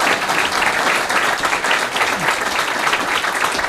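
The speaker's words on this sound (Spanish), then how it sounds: "Pido otro aplauso para el ingeniero Molina" An audience applauds engineer Molina at a book event, a dense, steady roar of many clapping hands that holds at full strength for the whole stretch.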